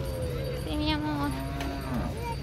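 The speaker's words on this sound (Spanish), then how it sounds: "Hay muchas vacas Lola." Cattle at a Sunday livestock fair in Santa María Joyabaj, Quiché, give a drawn-out low moo over a dense, noisy crowd background, fairly close and clear.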